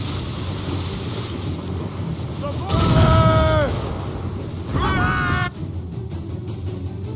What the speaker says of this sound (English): They're firing mortars!